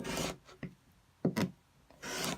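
Excess quilt fabric is trimmed away with a few short, dry scraping cuts coming in separate bursts, close and fairly quiet, with brief pauses between them.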